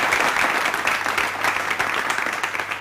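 Audience applause in a PTV drama scene at a fundraising event for needy students, a full, steady round of many hands clapping at a strong, even level with no speech over it.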